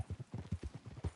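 Horse hooves clip-clop at a steady walking rhythm in Red Dead Redemption 2, quick regular thuds, quiet and brief.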